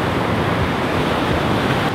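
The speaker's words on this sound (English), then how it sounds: "as you can see, there's some little waves. It's like knee high" Small knee-high ocean waves break and wash onto a sandy beach at Skeleton Bay, Namibia, a steady broadband surf roar with wind noise across the microphone and no distinct individual crashes.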